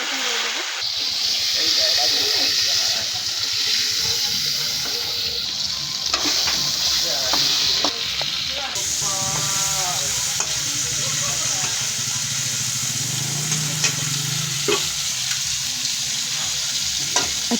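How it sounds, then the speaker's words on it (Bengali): Fish fat renders and sizzles in a pan, a steady hissing fry with stirring scrapes throughout, while people talk over it. "আমরা প্রথমে মাছের তেলটাকে ভেজে নিচ্ছি, তাহলে এই তেল দিয়ে মাছ ভাজা হয়ে যাবে।"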